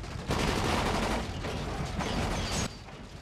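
Dense, sustained gunfire in the zombie survival game Dying Light, a steady rattle of overlapping shots lasting a few seconds before it drops off, fairly loud and without speech.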